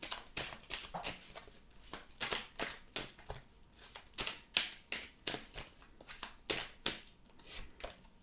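Tarot cards being shuffled by hand, a rapid run of crisp riffling bursts repeating steadily for several seconds, close and fairly loud with no voices.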